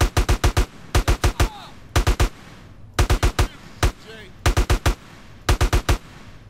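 Gunfire in GTA: San Andreas, loud bursts of three to five rapid shots repeating every second or so, close and sharp, with brief pauses between bursts and no talk.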